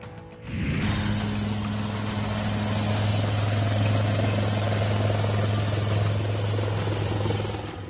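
A Dhruv military helicopter flies close by, its loud, steady rotor and turbine drone holding constant with a high whine above a deep hum.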